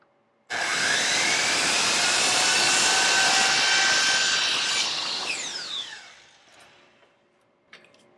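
A saw cuts a miter for a picture frame in one loud, continuous buzzing run of several seconds that starts abruptly and then trails off, followed by a brief small knock.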